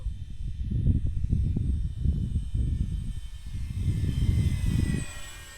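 An F-86 jet model makes a low pass at full throttle, its loud engine roar swelling and pulsing continuously for several seconds with no voices over it.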